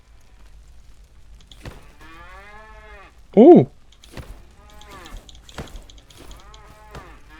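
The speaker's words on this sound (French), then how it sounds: "Oh, une vache en vrai" A cow in the Scrap Mechanic video game gives one short, loud moo partway through, with people talking before and after it.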